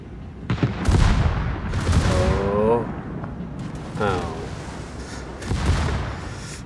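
Warship secondary guns fire in a naval video game battle: several booming, echoing shots spaced a second or two apart, with voices talking between them.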